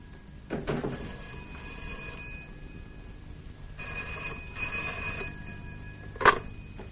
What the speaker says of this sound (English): Oh, there's a telephone.